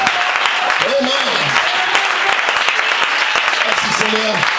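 Church congregation applauding and cheering together, a dense steady wash of clapping with voices calling out and singing over it, loud and close throughout.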